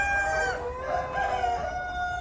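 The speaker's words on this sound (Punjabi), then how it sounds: "ਲੋਕੇਸ਼ਨ ਫਾਰਮ ਦੀ ਮੁਰਗੀ ਹੈ ਵੀਰੇ, ਡੀਪੀ ਕ੍ਰੋਸ ਮੁਰਗੀ, ਡੀਪੀ ਕ੍ਰੋਸ" DP cross chickens at a poultry farm near Patiala cluck and call in overlapping, drawn-out tones, fairly close and steady, with low farm background noise and no talking.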